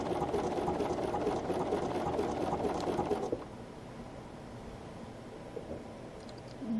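A sewing machine stitches thread into an Oregon souvenir, a steady rapid mechanical buzz running close and fairly loud for about three seconds before it stops, leaving a quieter room hum.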